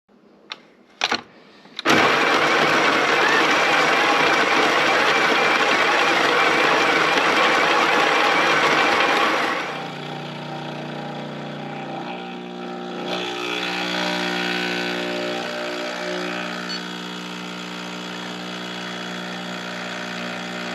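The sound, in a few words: electric coffee grinder grinding beans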